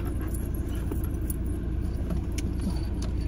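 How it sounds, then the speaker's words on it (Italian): Car keys jangle and clink in a few light metallic rattles over the steady low rumble of a car interior, fairly quiet and close, with no talking. "le chiavi le lascio qui"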